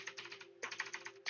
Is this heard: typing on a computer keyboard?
yes